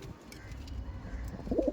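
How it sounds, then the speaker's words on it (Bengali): A Chini pigeon coos in a loft alongside Allahabadi pigeons, with a short, soft, low coo rising near the end of a quiet moment. "দেখুন চিনি পিয়ার।"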